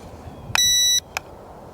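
An LSRC S1S mini brushless-motor drone gives a single steady electronic beep lasting under half a second during calibration, then a short second chirp, both clear and close against a quiet background.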